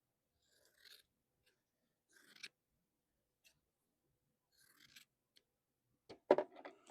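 Scissors snip through quilting fabric scraps in a few short, quiet cuts separated by pauses, ending with a couple of louder snips close by.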